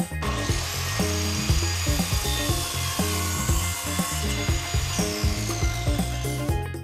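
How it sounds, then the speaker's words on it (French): A wooden board is hand-sawn to length in a workshop with quick, regular back-and-forth strokes, close and steady throughout. "Raccourcissez votre planche à la bonne taille."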